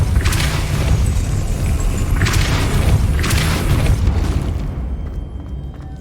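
A Depulso spell cast in Hogwarts Legacy, a loud, heavy booming blast with rumbling low end and a couple of surging thumps, fading out at the end.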